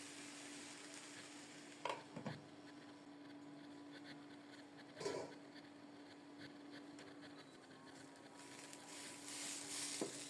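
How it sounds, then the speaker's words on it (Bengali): Pulao rice is stirred and fried in a pan over a steady low hum, with occasional spatula scrapes standing out amid a soft continuous sizzle. "নেড়ে চেড়ে চাউলগুলোকে একটু কষিয়ে নেব।"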